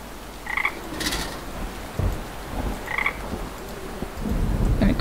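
A toad in the game Grim Legends croaks in short repeated bursts, about one each second, over a dark ambient bed of rain and rumbling thunder, with no one speaking.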